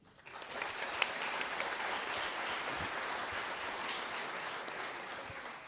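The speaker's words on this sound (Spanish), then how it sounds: "Pido un fuerte aplauso" Broad, steady applause from an audience at a union labor conversation event, rising quickly and holding dense and even throughout without speech over it.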